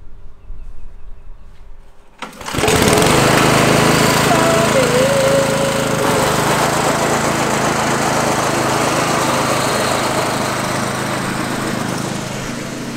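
A reel lawn mower cutting a low perennial ryegrass lawn starts up abruptly after a quiet moment, then runs as a loud, steady, close engine drone with a whirring reel for the rest of the clip.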